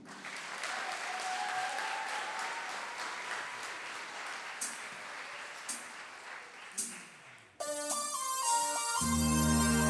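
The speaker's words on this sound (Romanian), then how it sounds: "Aplauze pentru ei." Audience applause at a music recital during a November music festival in Ploiești, a sustained wash of clapping from a small hall for several seconds before a piano or keyboard passage cuts in.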